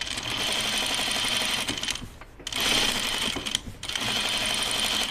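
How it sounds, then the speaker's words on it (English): A sewing machine top-stitches the waist seam of a dress, whirring in a fast, steady buzz that stops briefly twice before running on again, close and loud with no talking. "I'm going to top stitch my waist seam"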